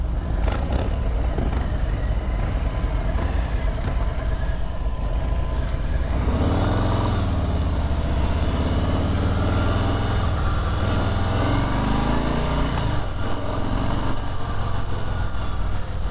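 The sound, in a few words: 2018 Harley-Davidson Street Bob motorcycle engine during test ride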